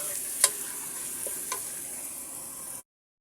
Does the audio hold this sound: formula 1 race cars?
no